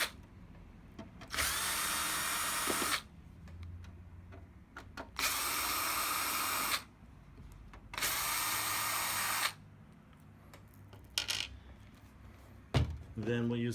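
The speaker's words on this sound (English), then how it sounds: "So we'll go ahead and remove those screws." A power driver fitted with a Torx T8 bit removes case screws from a TiVo Series3 HD box, whirring in three steady bursts of a couple of seconds each, close and loud, with quiet handling noises in between.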